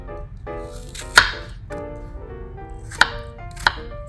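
A knife chops through fruit on a cutting board for a fruit salsa, with three sharp, distinct cuts spaced irregularly and close by, and no talking.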